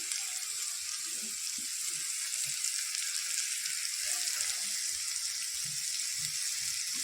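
Vegetables for pasta, potato and beans, sizzling steadily in a pan, a constant broad frying hiss throughout with a few soft low knocks from the pan, no talk.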